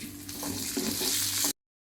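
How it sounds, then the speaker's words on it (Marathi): Capsicum fries in hot oil with a close, crackling sizzle and a few stirring scrapes, ending abruptly after about a second and a half. "सिमला मिरची पण फ्राय करून घेऊया मस्त खरपूस होईस तोपर्यंत आपल्याला फ्राय करून घ्यायची"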